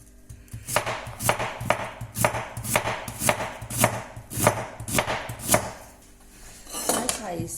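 Onion for an omelette is chopped with a knife on a board in quick, steady, close strokes, about two per second, pausing briefly near the end.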